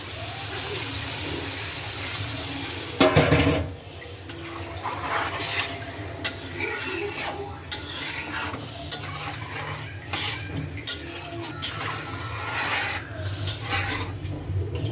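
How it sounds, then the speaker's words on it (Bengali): Singi fish curry being stirred in a pan after water is added, a close scraping and swishing of a spoon in the liquid with light clinks against the pan, steady and moderately loud, a brief louder clatter near the start. "শিং মাছ কষানো হয়ে গেছে এখন জল দিয়ে দিই"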